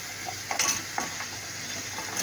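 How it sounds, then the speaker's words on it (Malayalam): Chopped carrot, potato and beans tipped into a pan with softened onions for a Kerala chicken stew, then stirred, giving a faint soft sizzle with a few scraping clinks of the spoon against the pan. "നേരത്തെ എടുത്ത് വെച്ച ക്യാരറ്റ്, ഉരുളക്കിഴങ്ങ്, ബീൻസ്, അപ്പോൾ അത് 3 അങ്ങോട്ട് ചേർത്ത് കൊടുക്കുകയാണ്"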